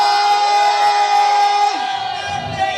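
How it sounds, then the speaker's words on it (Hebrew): Yeshiva crowd shouting together in a loud, sustained roar meant to sound like a lion, a dense wall of massed voices that holds steady then sweeps downward and thins toward the end. "ובכן, אני רוצה לשמוע אתכם צועקים בלב נשבר."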